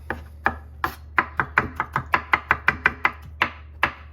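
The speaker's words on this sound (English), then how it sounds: "we're just gonna, again, just roughly chop these pickles" A knife roughly chops homegrown, home-canned dill pickles on a board, about a dozen crisp, close, uneven strokes in quick rhythm with brief pauses, no voices.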